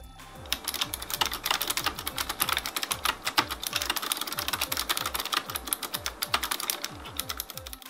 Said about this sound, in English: The feedback you get from each key press makes typing really fun.